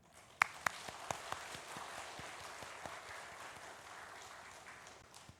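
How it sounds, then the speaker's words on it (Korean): Church congregation at a Sunday afternoon men's mission worship service applauding, a few sharp early claps swelling into faint, sustained distant clapping across the hall, with no talk over it. "좀 따뜻하게 격려의 박수 한번 하도록 합시다."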